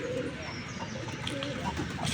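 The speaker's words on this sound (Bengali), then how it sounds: "এখানে আসলে মিক্স করা কবুতর, দেশি গোল্লা কবুতর, গ্রিবেস কবুতর, হুমা কবুতর, এসব কবুতর মিক্স করা।" Mixed pigeons, including desi golla, giribaz and huma breeds, in a rooftop loft coo softly nearby in brief low murmurs against a light background.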